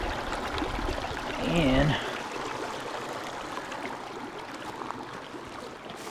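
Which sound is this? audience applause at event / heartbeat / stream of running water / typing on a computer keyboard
stream of running water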